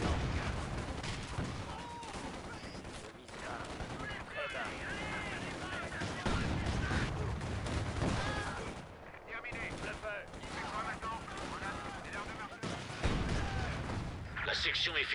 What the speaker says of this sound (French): Attends, je tire dessus moi.